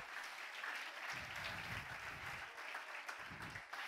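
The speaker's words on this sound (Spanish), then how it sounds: "Démosle un aplauso a Ronnie, que siempre me ayuda." Congregation applauding inside a church service, a steady dense wash of clapping that holds evenly throughout, heard from a distance and fairly faint.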